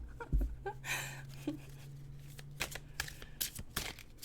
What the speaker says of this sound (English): I need to do a thicker shuffle. A thicker shuffle.